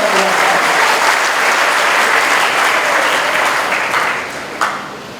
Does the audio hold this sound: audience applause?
yes